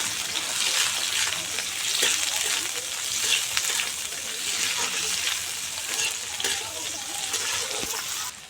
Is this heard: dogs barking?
no